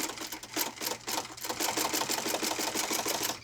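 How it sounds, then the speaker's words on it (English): A lock stitch sewing machine without reverse runs steadily through a backpack's fabric, giving a close, fast, even rhythmic clatter of needle strokes for a few seconds with no talking. "This machine does not have reverse, but again, the lock stitch on it is super, super solid."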